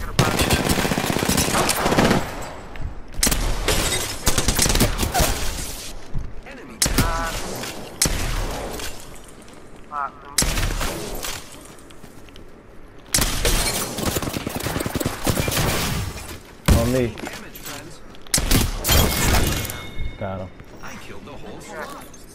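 Gunfire in the shooter game Apex Legends, with dense bursts of automatic fire and single shots coming in loud, repeated clusters separated by short gaps, while players talk over the fighting.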